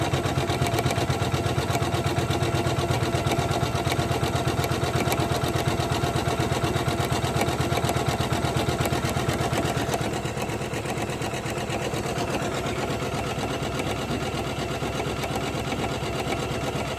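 A Janome 500e embroidery machine stitches a Christmas tree ornament with a continuous rapid mechanical whirring and needle chatter, close and steady throughout, with no talk.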